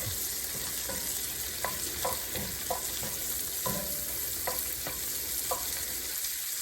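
Fat melts in a pan for gravy, giving a steady, close sizzle with scattered crackles and pops throughout and no voices.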